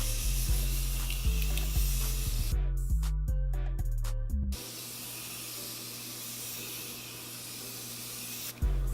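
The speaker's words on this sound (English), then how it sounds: "I'm going to be setting with this Morphe Continuous Setting Spray because I haven't used it in a while" Morphe Continuous Setting Spray misted over a freshly made-up face, heard as a quick run of sharp, close pump-sprays one after another, loud and without talk, followed by a low steady room hum.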